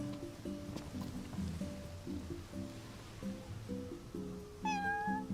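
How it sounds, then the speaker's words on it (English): A cat meows in Final Fantasy XV, a short rising-and-falling cry near the end over steady game music with soft background ambience. "Oh, look at the kitty."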